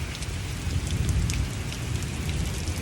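A small hailstorm mixed with sleet rips through the Wisconsin woods, a dense, steady pattering of pellets striking the ground and leaves, close and continuous with no voices.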